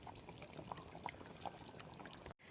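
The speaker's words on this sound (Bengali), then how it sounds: "এবার জল দিয়ে দেবো।" Water is poured into a pan of fish curry with potatoes and Malabar spinach, a soft, close trickling splash with a few faint plinks, cut off abruptly near the end.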